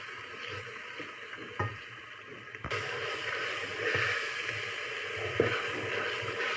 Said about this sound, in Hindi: इतनी देर तक इसको मसाले को भूनना है।